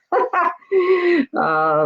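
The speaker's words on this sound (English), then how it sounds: "that's why the dog's barking" A dog barks and yips indoors while a snow blower runs outside, three sharp close barks, the last drawn out into a whining howl, with no voices.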